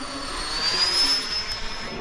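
A radio-controlled F-22 model jet on its maiden flight, coming in to land with gear down: a steady, thin whine of the electric ducted fan with a rising high tone, moderately loud.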